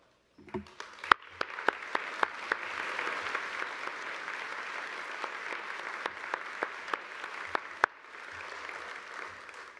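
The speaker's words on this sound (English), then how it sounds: "please stand up and take a quick round of applause" Audience applause in a room at an annual breakfast event, honoring board of directors members; steady dense clapping for most of ten seconds with a few sharper individual claps standing out, then fading out.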